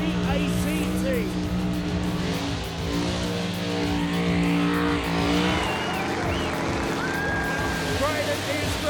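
A modified car revs hard at the Summernats street machine event, producing a loud, continuous, raspy engine roar with rising and falling pitch. The crowd noise and a commentator's voice run over it.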